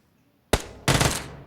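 PUBG Mobile gunfire: a single sharp shot followed a moment later by a short rapid burst of automatic fire, loud and close, with no talk.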